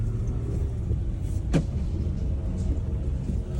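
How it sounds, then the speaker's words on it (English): A car with air suspension rolls off on its first test drive after being repaired, giving a steady low engine and road rumble heard from inside, with one brief sharp knock partway through and no talking. "We're just leaving on our first test drive."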